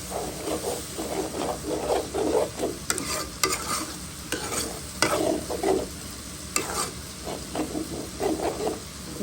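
Spices with tomato paste, turmeric, chili, coriander and cumin sizzle in a pan while a spatula stirs them with dried loitta fish for a hotel-style bhuna. Scraping strokes come in quick bursts over a steady hiss.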